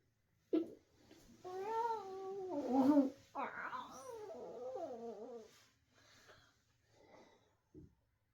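A child imitating a cat, giving drawn-out, wavering meow-like cries in a close, quiet room at bedtime, followed by softer murmurs and a brief sound near the end.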